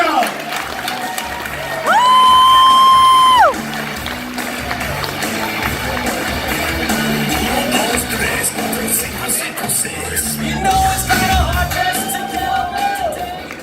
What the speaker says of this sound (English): Start clapping right now for Joe Cooper, y'all